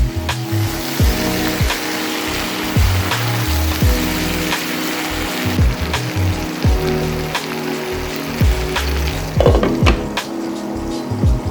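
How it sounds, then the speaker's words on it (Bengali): Bitter gourd slices fry in a pan with a steady rain-like sizzle under repeated clinks and scrapes as the pieces are turned over. "এভাবে উল্টিয়ে পাল্টিয়ে ভাজা করে নিব"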